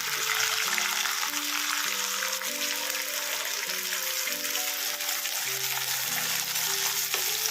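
Mustard seeds and curry leaves crackle and sizzle steadily in hot oil, a dense, even frying hiss heard close and alone for the whole stretch.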